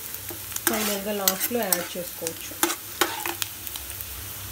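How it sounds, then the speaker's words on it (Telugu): Ingredients for poha biryani fry in a pan, with stirring scrapes and sizzling under a voice. "బాగా బ్రౌన్ కలర్ లో ఫ్రై అవ్వాలి మొత్తం ఇది"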